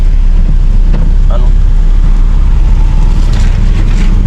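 Heavy rain pours steadily and loudly in Bicol, a dense continuous wash with a deep low rumble underneath, close and unbroken throughout.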